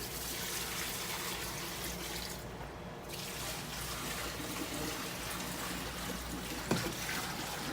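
Sanitizer liquid poured into both sides of an IceDream machine, a steady low trickle and splash running continuously with a brief pause midway and a small knock near the end.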